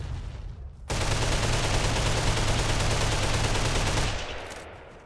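Sustained burst of gunfire in the video game Ark, loud and dense, starting abruptly after a second and running steadily for about three seconds before fading, with no talk over it.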